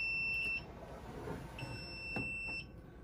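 An egg incubator's high electronic low-humidity alarm beeps in two long tones with a short gap, steady and clear over faint background noise.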